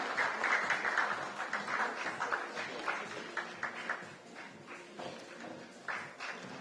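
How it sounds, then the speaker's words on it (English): Audience applause fills a live automotive dealers' association event in Delhi, a steady crowd of clapping with scattered sharper claps, moderately loud and continuous throughout without talk over it. "Can we have a huge round of applause, ladies and gentlemen?"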